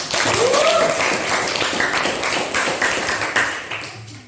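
Applause at a classroom teacher-training group discussion, a burst of clapping from a small crowd at full strength, slowly thinning over a few seconds amid some background voices.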